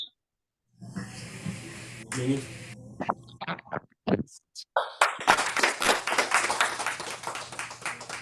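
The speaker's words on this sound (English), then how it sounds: "A big round of applause to kids, please" At a cultural center gathering, an audience gives the kids a round of applause. A few early claps grow into dense, sustained clapping from many hands that carries on to the end.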